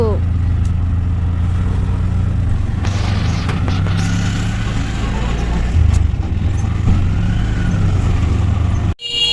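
An auto rickshaw rides toward Ranchi station with a steady, loud engine drone and road rumble throughout, under occasional talk inside the cab.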